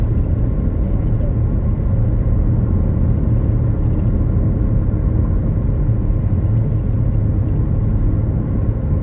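Steady road rumble and tire whir from a car cruising on Highway 40 toward Montreal before rush hour, a constant broad wash of traffic noise with no clear voices.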